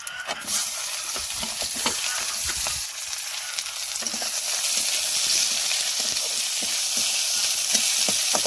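Onions frying in hot oil with dried red chillies, whole garam masala, panch phoron and two bay leaves: a dense, bright continuous sizzle close by, dotted with light stirring scrapes and growing slightly louder toward the end.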